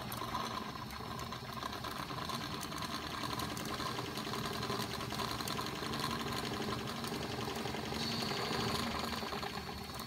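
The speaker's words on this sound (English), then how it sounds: "Engine is running." A Wilesco D20 model steam engine runs at a moderate steady speed, giving a quiet, rapid mechanical ticking and whirring with a continuous even rhythm.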